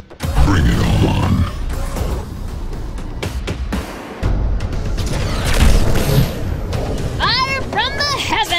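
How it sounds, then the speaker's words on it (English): Bombs rain down and explode in the video game Atlas Reactor, a run of heavy booms and rumbling impacts with mechanical clatter, loud and close, mixed with game voice lines and ending in sharp chirping effects. "Fire from the heavens! Bouncing! Bombs!"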